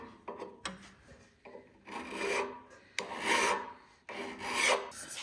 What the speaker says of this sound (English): bed up a bit so I can file that back down actually